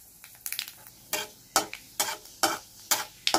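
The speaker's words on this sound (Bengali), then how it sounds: "ফোড়নটা একটু ভেজে নেব" Black cumin seeds and a dried red chili tempering in hot oil for a Bengali hilsa fish curry, sharp sizzling bursts with stirring scrapes recurring in a steady rhythm, close and fairly loud with no talk.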